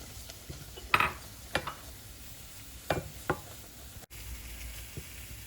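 Flour being stirred into hot olive oil in a pan to make a roux, with a soft sizzle underneath and a few scraping, knocking utensil strokes spread out across the stretch.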